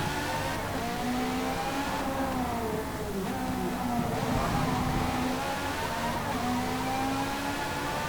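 A race car upgraded with race cams in Forza Motorsport 4 revs high and steadily, its engine note rising and falling through gear changes as a constant loud drone.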